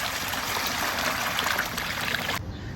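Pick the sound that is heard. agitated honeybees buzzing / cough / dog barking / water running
water running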